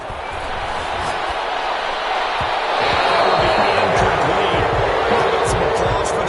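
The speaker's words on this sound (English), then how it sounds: "Some applause for the defense there." A stadium crowd in a PS4 football video game applauds the defense, a continuous roar that swells partway through, with thumping sounds and commentary over it.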